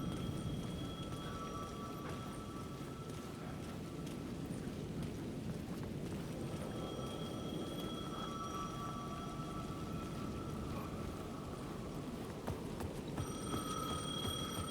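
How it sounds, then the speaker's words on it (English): A payphone rings in Alan Wake 2, with repeated tonal ring bursts cutting through a dense, rain-like ambient wash of the game's night setting. "The payphone at the edge of the plaza was ringing again."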